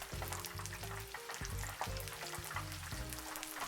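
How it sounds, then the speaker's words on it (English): Fish fillet pieces deep fry in hot oil, a soft, continuous bubbling sizzle heard at moderate distance, fairly quiet and even, with no talking. "Let them fry for 5 minutes."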